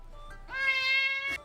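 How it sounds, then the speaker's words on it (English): A cat gives a single clear, drawn-out meow that rises and then fades, close and distinct, with a faint earlier chirp and quiet room background. "She's looking at the cat. Adorable."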